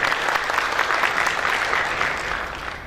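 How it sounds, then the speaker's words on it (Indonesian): A hall audience at an evening corporate awards ceremony claps steadily in a warm, dense applause that fades slightly near the end, with no voices over it. "Beri tepuk tangan mereka."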